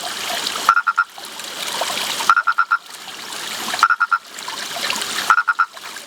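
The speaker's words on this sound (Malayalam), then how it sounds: "ചില സമയത്തൊക്കെ 100 കണക്കിന് തവളകൾ ഒരുമിച്ചൊക്കെ വിളിക്കുന്നത് നമുക്ക് കേൾക്കാൻ പറ്റും." Purple frogs calling in chorus: four bouts of sharp, rapid pulsed croaks, each with three or four clicks, repeat about every second and a half over a soft, continuous background chorus.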